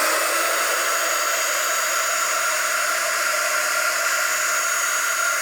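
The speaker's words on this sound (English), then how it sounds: "let me grab my heat gun" Heat gun blowing hot air over a shiny craft top coat for home décor, a steady close whooshing roar that holds level throughout with no talk.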